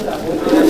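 A brief, soft coo from older Madrasi Abluk pigeons, a breed of domestic fancy pigeon, with a voice talking close by over it.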